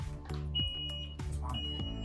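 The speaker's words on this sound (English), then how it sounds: "So you can see off course alarm has been activated." Off course alarm on a Tokyo Keiki PR 9000 autopilot, a steady high electronic tone that sounds twice in close succession over a low hum of equipment.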